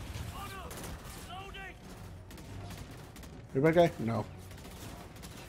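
Bursts of video game gunfire crackle at moderate volume, with a louder rapid volley near the end and players talking in between.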